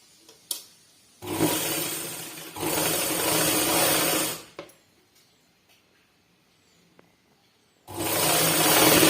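A sewing machine stitches a sleeve onto a ready-made dress in two steady whirring bursts, pauses with faint handling noise, then starts running again near the end.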